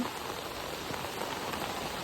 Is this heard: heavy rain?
yes